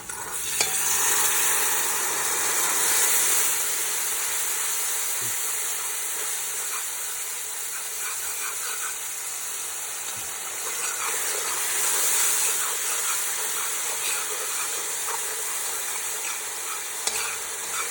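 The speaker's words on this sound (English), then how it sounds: "I'm just going to add a little bit of hot water to allow the dehydrated powders to get some life" Steady loud sizzling and hissing of hot water hitting frying curry spices in a hot pan, continuous throughout with faint stirring scrapes underneath.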